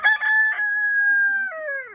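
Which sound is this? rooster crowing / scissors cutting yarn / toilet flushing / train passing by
rooster crowing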